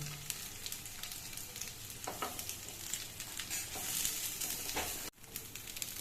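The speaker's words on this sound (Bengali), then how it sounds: "এখানে ফিফটি পার্সেন্ট মতো ফ্রাই হয়ে গেছে" Chicken balls frying in hot oil, a steady close sizzle with occasional stirring scrapes, cutting off briefly near the end.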